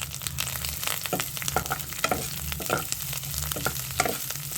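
Chopped onion pieces sizzle and fry in a pan for carrot pulihora, with repeated scraping stir strokes over a steady close crackle.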